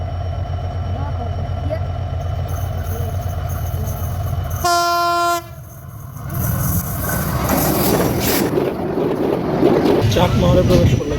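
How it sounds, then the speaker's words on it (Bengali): The 771 Rangpur Express, a passenger train bound for Rangpur, passes through Moladuli station without stopping. A steady rumble breaks into a loud horn blast, then the clattering roar of the carriages swells close by, with voices in the background. "ঢাকা থেকে ছেড়ে আসা রংপুর অভিমুখী সাতশো একাত্তর রংপুর এক্সপ্রেস মোলাডুলি থ্রু যাবে"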